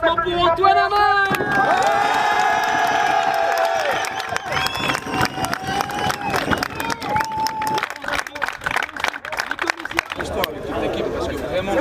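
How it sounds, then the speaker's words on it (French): A crowd at a drift event cheers and applauds for drifter Antoine Amar. Loud mixed shouting and whooping with a few sustained tones give way to dense clapping and chatter that go on throughout. "Applaudissements pour Antoine Amar."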